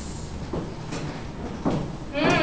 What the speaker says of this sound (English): I'm on this train on the way to Stella audition.